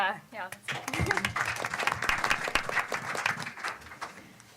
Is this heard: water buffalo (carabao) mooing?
no